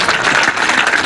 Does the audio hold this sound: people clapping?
yes